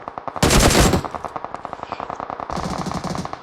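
An AK rifle fires in a video game: a loud burst of rapid automatic gunfire, then steady repeated shots and another dense burst, close and continuous with no talk over it.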